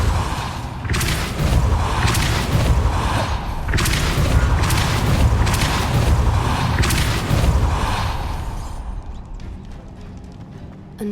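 The Depulso spell in Hogwarts Legacy on PS4 fires as a loud run of booming thumps and whooshes in rhythmic bursts, settling into softer clatter near the end.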